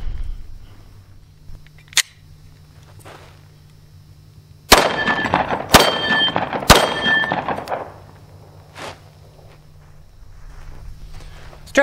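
Steel-cased Winchester USA forged 9mm rounds fired from a pistol at steel targets outdoors: a faint early pop, then three loud sharp shots about a second apart, each followed by a ringing metallic clang, with quieter ambient noise between.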